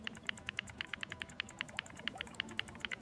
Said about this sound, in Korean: 조코딩이 코딩하는 장면입니다